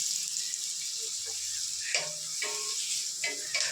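Onions fry in a pan until brown, giving a steady, soft, high sizzle with small bursts of crackle and a few light stirring knocks.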